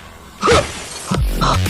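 Window glass shatters in an animated cartoon comedy as a character escapes through it, a loud crashing burst followed by further thuds and rumbling.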